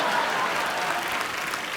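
Studio audience at a comedy talk show applauding, a steady continuous wash of clapping heard briefly and at moderate level.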